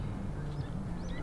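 Birds call faintly outside a house under renovation, with a couple of rising chirps over a steady, noisy outdoor background hum.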